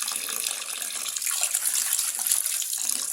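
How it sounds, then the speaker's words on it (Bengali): Beef pieces being washed under running water, a continuous splashing stream from a tap with sloshing and trickling in a basin, close and fairly loud throughout. "বন্ধুরা, মাংসটা ধুয়ে নিচ্ছি"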